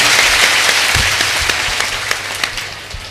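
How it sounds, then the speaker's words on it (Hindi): Loud, dense applause from an audience at a religious gathering, sustained and fading slightly toward the end, with a few sharper individual claps standing out. "कभी कभी ताली जोरदार बजाया करो।"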